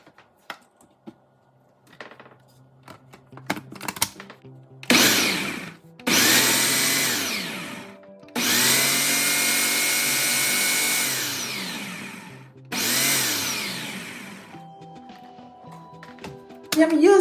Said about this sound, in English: I'm using the Ninja food processor, which is very powerful.